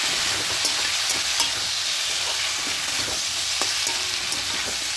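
Ground coriander, cumin, chilli and turmeric powders frying in a pan while being stirred, a dense steady sizzle with light scraping ticks, close and constant, no one speaking.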